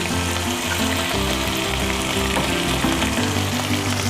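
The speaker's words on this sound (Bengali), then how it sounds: "এই জিরেটা আর এই শুকনো লঙ্কা কাঁচা লঙ্কাটা আমি একটু নাড়াচাড়া করে নেব তেলে" Cumin seeds with dried and green chillies fry in hot oil for an Ilish fish curry with aubergine, a loud, steady sizzle running throughout with a low hum beneath and no talking.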